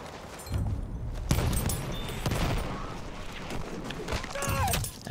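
Shots from a Vetterli repeating rifle in Battlefield 1, sharp individual cracks spaced a second or so apart amid battlefield noise, fairly close but not overpowering, with a voice speaking at times.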